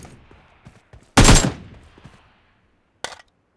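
Gunfire in the mobile battle-royale game PUBG Mobile: a single loud, sharp burst of shots near the start, then a shorter second burst toward the end, with faint in-game noise between.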